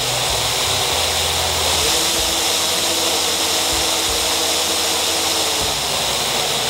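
Brushless motor controlled with an Arduino, spinning at high speed with a loud, steady, broadband whirring whine that holds throughout, with no talking.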